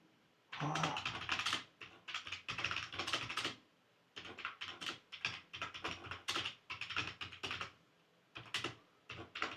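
A computer keyboard is typed on up close in quick bursts of clicky keystrokes, with a short pause partway through as a prompt is entered.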